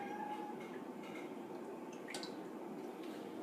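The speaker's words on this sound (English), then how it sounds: "take your milk or half and half, and then just pour it in" Milk or half and half is poured into a pan on medium-low heat while making chocolate pudding, a soft steady trickle with light drips, fairly quiet and close, with no talk.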